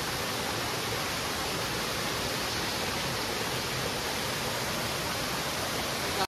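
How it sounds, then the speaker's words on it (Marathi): River water rushes steadily over stones at night, a dense, continuous close-up wash with no pauses or voices. "पाणी बघा का मस्त वाहतंय दगडातून"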